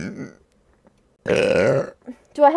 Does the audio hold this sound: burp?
yes